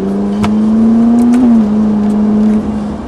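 A Ferrari 458 on the Montlhéry circuit accelerating hard in a loud, close, sustained engine roar whose pitch climbs steadily, then briefly dips at about two and a half seconds as if shifting gear, with no talk.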